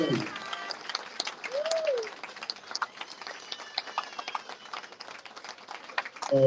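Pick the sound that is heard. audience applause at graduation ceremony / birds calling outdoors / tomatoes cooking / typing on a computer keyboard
audience applause at graduation ceremony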